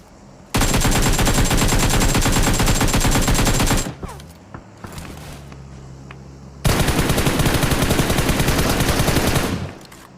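AKM and M4 automatic rifles fire in PUBG Mobile gameplay in two long, dense bursts of rapid shots, loud and close, separated by a short pause with a few scattered single shots.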